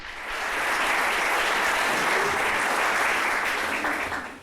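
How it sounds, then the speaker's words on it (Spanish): Loud, dense applause from a church congregation, rising quickly and holding steady for several seconds before easing off. "denles un aplauso"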